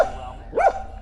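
A single dog bark, fairly close and loud, rising briefly midway through on a trail during a nature loop hike, with steady low background rumble and no talk.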